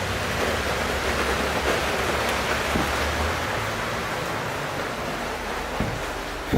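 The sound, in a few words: heavy rain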